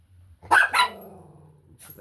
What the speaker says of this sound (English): It's dogs. It's a bark off in the neighborhood.